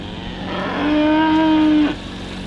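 A dairy cow on a farm lets out one long, close, loud moo that rises and then cuts off, with low farm background hum before and after.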